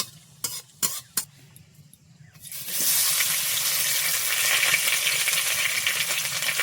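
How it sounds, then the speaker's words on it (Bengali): Panch phoron five-spice seeds hitting hot oil in a pan for village-style cooking: a few sharp clinks, then a sudden loud, steady sizzle that carries on to the end. "এই যে পাঁচফোড়ন। এবার এটাকে ভেজে নেব একটু।"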